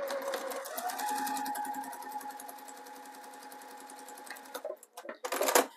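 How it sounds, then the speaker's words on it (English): A sewing machine stitches a Christmas stocking trimmed with piping in a near, steady whirring run that slows and fades out. A few quick bursts of handling noise come at the end. "So I'm going to start stitching again right about here."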